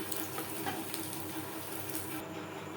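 Grated coconut frying in mustard oil for vegetarian banana-flower chops, a close, steady sizzle with light crackling that stays even throughout, no voices.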